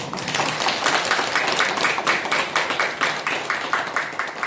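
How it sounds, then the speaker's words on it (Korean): An audience at a Buddhist college lecture breaks into applause, a steady crowd of hand claps with a loose, pulsing rhythm that carries on for several seconds, fairly close and without talk over it. "박수 좀 쳐주세요."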